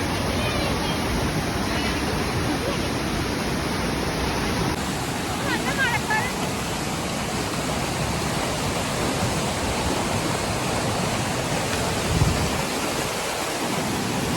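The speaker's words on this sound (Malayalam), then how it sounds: "നല്ല വെള്ളച്ചാട്ടമുണ്ട്" Steady, heavy rushing of a waterfall near Kollengode, Palakkad, Kerala fills the scene, a constant roar of falling water with no pauses.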